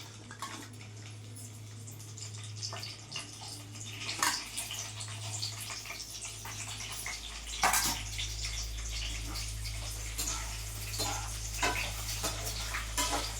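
Okra fries in hot oil in a pan for a tamarind curry, a soft continuous sizzle up close with occasional stirring clatters and a steady low hum underneath.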